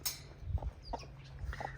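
Hens in a coop cluck in short, close bursts, several soft irregular clucks and a sharper call at the start, fairly loud and alone.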